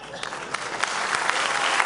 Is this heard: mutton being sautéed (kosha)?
no